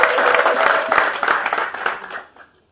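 A church congregation bursts into loud, dense applause close by, sustained clapping that rolls on for a couple of seconds before tapering away.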